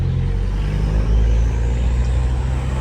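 A Volkswagen Jetta's modified exhaust rumbles deep and steady at close range, a heavy low drone that swells briefly midway, with no talking.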